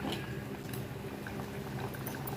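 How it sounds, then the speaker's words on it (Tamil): Tamarind curry with okra bubbles softly at a steady simmer in a pot, a faint continuous gurgle with small pops, and no voices. "குழம்பு நல்லா கொதிச்சிட்ருக்கு"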